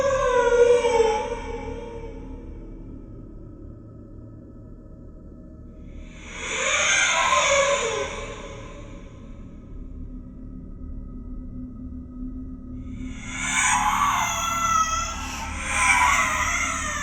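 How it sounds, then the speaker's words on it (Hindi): A child cries at midnight in three separate wailing bursts spaced several seconds apart, moderately loud over a low, dark background hum, with no talking. "वो किसी बच्चे की रोने की आवाजें आ रही थीं।"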